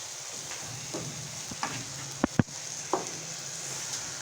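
Yogurt going into a sizzling lobia (black-eyed bean) curry and being stirred in, a steady low sizzle under a few sharp spoon knocks against the pot near the middle, no voices.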